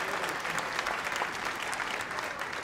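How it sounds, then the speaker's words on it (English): Steady audience applause at a stand-up comedy show, a dense even patter of many hands clapping at moderate volume with no talk over it. "How about a big round of applause for all the staff here at Joe's,"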